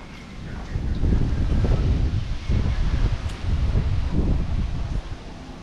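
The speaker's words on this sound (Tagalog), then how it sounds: "grabe po ang hangin dito sa amin." Strong wind roars and buffets against the microphone by a river in rising and falling gusts, loud and close, with a rustling undertone.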